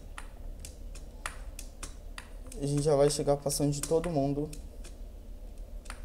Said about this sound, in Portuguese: Ignora se estiver ouvindo o barulho do teclado